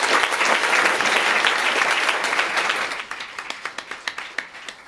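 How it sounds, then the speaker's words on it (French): An audience applauds after a festival talk on degrowth, democracy and social economy, a dense wash of clapping that thins out into a few distinct, spaced claps at the end. "Alors, on les remercie, on les applaudit."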